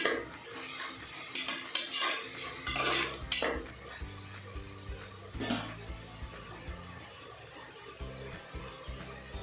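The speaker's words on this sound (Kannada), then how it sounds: "ಕ್ಯಾಪ್ಸಿಕಮ್ ಟೊಮೆಟೊ ಸ್ವಲ್ಪ ಸಾಫ್ಟ್ ಆಗಿರೋದು ಫ್ರೈ ಮಾಡ್ಕೊಳ್ಳಿ" Capsicum and tomato frying in a pan for capsicum bath, stirred with a metal spoon that clinks and scrapes against the pan in irregular bursts over a faint sizzle, close and moderately loud, no voices.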